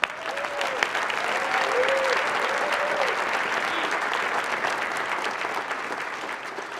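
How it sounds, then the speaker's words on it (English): A crowd applauds at a special awards presentation with strong, sustained clapping, and a few cheers and whistles ring out near the start before the applause settles into an even roar. "So can we give them both a round of applause?"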